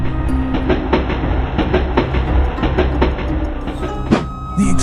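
Steam train wheels grind and clatter along iron rails in a loud, continuous rumble with irregular clacking beats, ending in a harsher screech.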